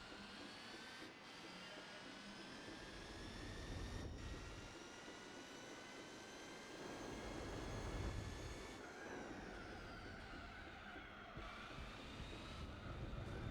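Race car engine in Gran Turismo 4, an old GT1 car, heard as a steady droning whine with rising harmonic pitch, shifting and climbing again over about fourteen seconds, with no talk.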